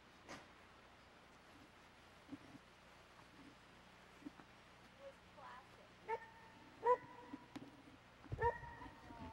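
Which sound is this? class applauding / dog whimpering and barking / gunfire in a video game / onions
dog whimpering and barking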